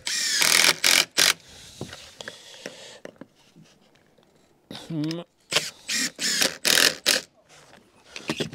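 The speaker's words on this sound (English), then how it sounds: "I'm putting screws there in that line, and they're about every 300" Screws driven into roof trim on a garden room build: short bursts of power-driver whirring and ratcheting, several in a row with pauses between, close by, with someone talking in between.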